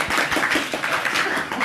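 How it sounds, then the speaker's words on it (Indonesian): An audience at a motivational talk claps together, a dense, steady patter of many hands held at an even level for under two seconds with no voices over it. "Tepuk tangan untuk kita semua."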